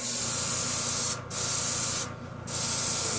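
Pearl powder paint sprayed onto a fishing bait in steady, close hissing bursts, with two short pauses between passes.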